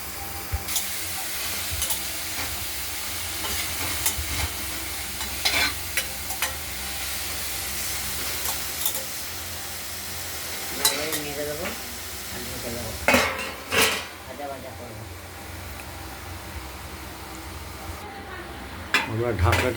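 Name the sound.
snake gourd stir-frying in a wok, stirred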